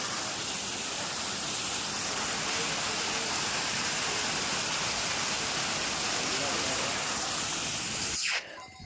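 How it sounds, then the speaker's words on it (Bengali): A mountain waterfall on the Kedarnath trek gives a constant, broad rushing hiss for about eight seconds, then cuts off abruptly near the end. "ঝর্ণা"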